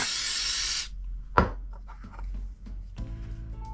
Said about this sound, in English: So we'll spray a little accelerator on that.